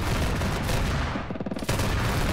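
ZU-23 anti-aircraft gun firing in a multiplayer war game with Ukrainian mechanized airborne forces, a dense, loud stream of rapid automatic shots rolling without pause and briefly thinning before resuming, with no talk.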